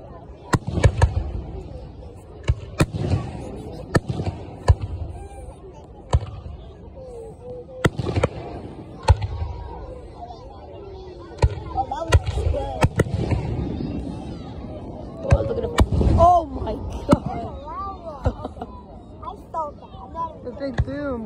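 Fourth of July fireworks burst over Natchez, a steady run of sharp distant booms and crackles that comes in irregular volleys, with people talking and exclaiming throughout.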